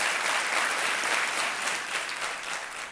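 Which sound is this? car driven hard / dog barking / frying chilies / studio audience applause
studio audience applause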